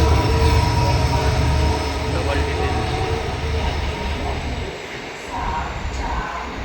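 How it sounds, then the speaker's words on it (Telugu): The Krishna Express passenger train, Adilabad to Tirupati, pulled by a WAG9 electric locomotive, rolls loudly into platform 1 with a continuous rumble, wheel noise and faint squeals, easing slightly toward the end. "మన కృష్ణ ఎక్స్ప్రెస్ అయితే వచ్చేసింది ప్లాట్ఫామ్ నెంబర్ 1 మీదకి. WAG9 ఇంజన్ అయితే పుల్ చేస్తుంది మన కృష్ణ ఎక్స్ప్రెస్ని."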